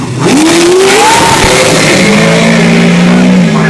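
A Datsun 180B race car at Willowbank Raceway screams past at high revs, very loud and close, its engine pitch climbing through gear changes, then dropping and drawing out as it passes.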